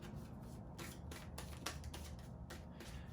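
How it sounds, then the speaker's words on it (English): A deck of tarot cards is shuffled by hand in a steady run of soft, papery riffles and flutters, close and moderately quiet with no talking. "2 more shuffles."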